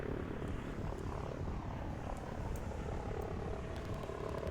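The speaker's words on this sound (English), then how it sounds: "And the helicopters are moving in over here." Helicopters moving in during a Line War real-time strategy match: a steady, moderately loud rotor and engine drone with a dense, continuous wash of noise, holding level without pause.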